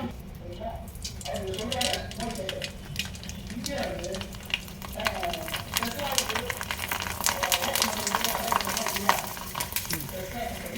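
Sago papad fries in hot groundnut oil in a small pan, a steady crackling sizzle with stirring, heard under a person talking throughout.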